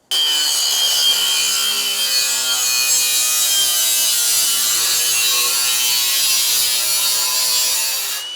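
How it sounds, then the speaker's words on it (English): An angle grinder cuts through the steel exhaust pipe of a Nissan Patrol, giving a steady, loud, high-pitched whine and scraping that holds for about eight seconds, close up and with no talking. "So, time for the grinder."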